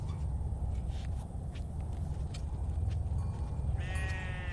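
Sheep bleating in a flock of about sixty kept by herders, thirsty after days without water, a few faint calls under steady low rumbling wind or motor noise, with a clearer harmonic bleat near the end.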